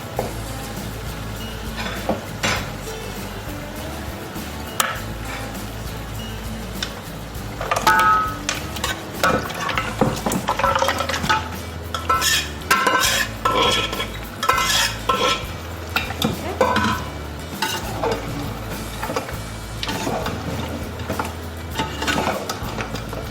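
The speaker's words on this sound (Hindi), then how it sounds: "2 से 3 मिनट तक मैंने इन पाए को भून लिया मसाले के साथ" Beef trotters (paya) frying with spices in a pot, with stirring scrapes, clinks of a utensil against metal and a steady sizzle that grows busier and louder partway through.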